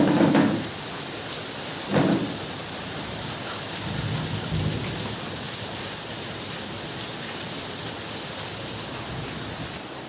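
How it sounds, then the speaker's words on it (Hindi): Heavy rain pours steadily with a constant dense hiss, broken by a couple of low thunder rumbles early on, no voices. "चलिए बारिश दिखाती हूँ मैं।"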